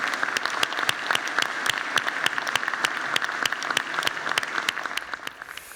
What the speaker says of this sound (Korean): 위원장님과 위원님들께 박수 한번.